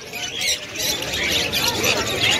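A sun conure squawks at a busy bird market, a run of harsh, shrill, piercing calls heard close and fairly loud over a noisy background.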